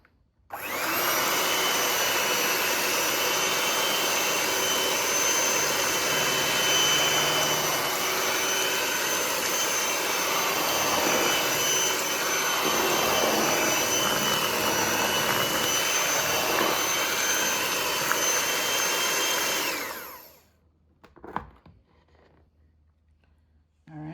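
Electric mixer whirring steadily for about twenty seconds as it blends molasses into a Jamaican rum black cake batter, a loud continuous motor drone that cuts off abruptly, followed by a few soft clattering knocks.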